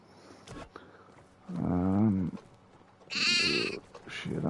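Sheep in the video game Medieval Dynasty bleat nearby, two loud drawn-out calls, the second higher and more nasal, separated by quiet farmyard background.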